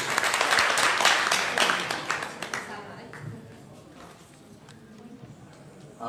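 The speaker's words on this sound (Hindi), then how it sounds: "एक बार जोरदार तालियां बजाइए सर के लिए।" Audience clapping at a community gathering in Haridwar, dense and loud at first, then thinning into scattered claps and fading to a quieter murmur.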